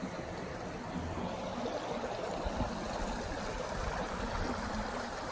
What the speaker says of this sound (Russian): Вот такой детский душ.